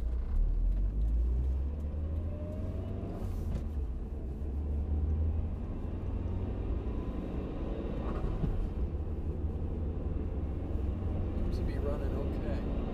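High-mileage Mitsubishi Evolution 8 driving with a steady, close engine and road rumble throughout, shifting smoothly through its gears while someone talks over it.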